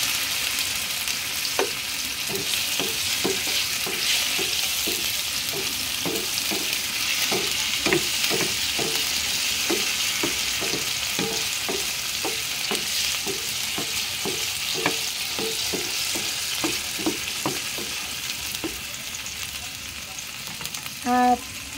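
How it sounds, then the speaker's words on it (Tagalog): Tofu sizzles in a frying pan for a Filipino fried-rice dish, a steady broad hiss over the whole stretch, with repeated light clinks and scrapes of stirring; no one speaks. "Unahin natin yung tofu para maprito siya ng konti."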